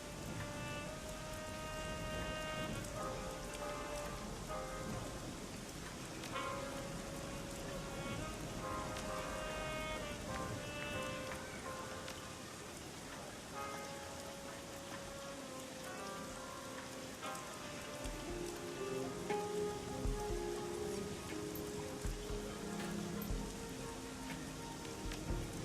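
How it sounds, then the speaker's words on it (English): Heavy rain pours steadily in a Hong Kong setting, a dense continuous hiss that lasts throughout, layered with music and scattered tones, with no talk. "imagine trying to play a game like that in this heavy ass rain"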